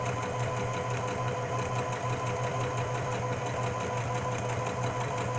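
A sewing machine runs a steady, continuous mechanical hum as it backstitches slick fabric to lock a tightened stitch. It is fairly close, with no talking.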